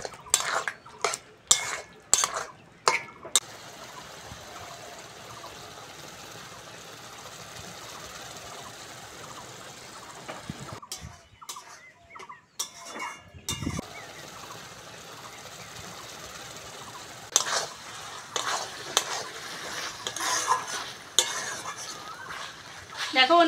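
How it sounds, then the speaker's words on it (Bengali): Spice masala is stirred in a pan with fried potatoes for a makhana dish, with bursts of rapid metal spatula scrapes and clatters, close and fairly loud, over a low sizzle, with some talking. "আলু ভেজে রাখা, আর একটু মশলাটা কষবো।"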